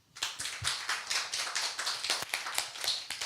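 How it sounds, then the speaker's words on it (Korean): Church congregation at a service breaking into applause, a dense, steady round of many hands clapping close by for a few seconds. "우리 주님께 박수"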